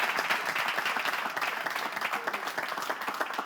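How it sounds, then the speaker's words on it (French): Studio audience applause on a French television quiz show, brisk and fairly loud with individual claps audible in a quick steady patter, continuing throughout without speech. "on l'applaudit, s'il vous plaît"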